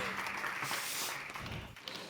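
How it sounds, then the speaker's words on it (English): An audience at a talk applauds a speaker as he takes the stage, a broad wash of clapping that thins toward the end with some movement and thumps near the microphone. "Please give him a warm round of applause."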